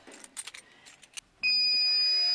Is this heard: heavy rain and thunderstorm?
no